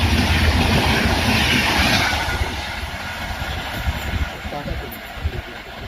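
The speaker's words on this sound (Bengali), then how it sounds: "কালকা মেল 130 কিলোমিটার প্রতি ঘন্টা স্পিডে পোড়াবাজার থেকে ক্রস করছে।" The Kalka Mail (Kalka–Howrah Netaji Express) passes at 130 km/h, a loud, continuous rushing roar of wheels and carriages close by that eases slightly toward the end.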